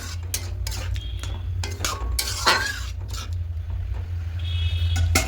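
Lentil dal with vegetables and chopped coriander is stirred in a pot, with a spoon scraping and knocking in repeated strokes over a steady low burner hum.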